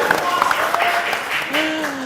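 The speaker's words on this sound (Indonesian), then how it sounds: "Boleh tepuk tangan?" An audience at a motorcycle community gathering of NMax and Aerox riders at Cook and Clean in Sentul claps steadily for about two seconds while voices talk over the applause.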